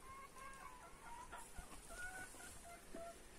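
Several chickens cluck and squawk nearby in a garden in a scattered, busy chorus, with faint outdoor background noise.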